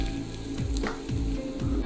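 Hot cooking oil poured over chili powder mixed with white sesame seeds, giving a loud, steady sizzle and crackle that continues throughout with faint stirring knocks.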